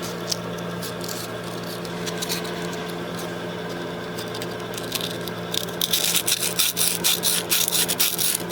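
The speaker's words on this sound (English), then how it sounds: "Might wrap a piece of emery cloth on a screwdriver." Emery cloth wrapped around a screwdriver scrubs rust out of a part on a neglected 1983 Yamaha YZ80 dirt bike. Close, continuous gritty rubbing strokes grow faster and harsher toward the end.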